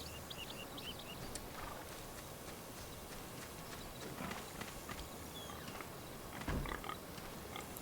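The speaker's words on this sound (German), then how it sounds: "Also echte Schweine, keine Nazis." Pigs grunt faintly in the distance in the video game Hidden & Dangerous 2, soft scattered snorts over a quiet outdoor background.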